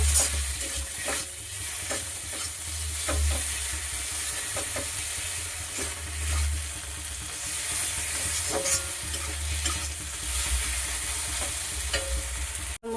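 A spatula stirs turmeric, chili powder and salt in hot oil in a kadai, a continuous close sizzle with scraping stirs recurring irregularly across the whole stretch.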